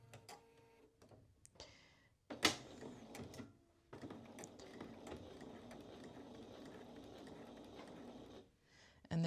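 A sewing machine stitches down a narrow strap for a dress, a quiet close whirring run of stitches after a few clicks and handling sounds, stopping near the end.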